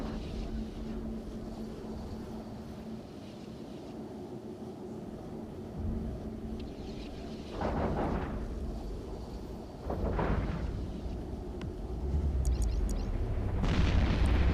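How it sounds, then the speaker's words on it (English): A Tornado ship exploding in the EVE Echoes video game, with low rumbling booms and a few sharp bursts rising over a steady ambient hum, the last blast the loudest and deepest. "And the tornado has been destroyed."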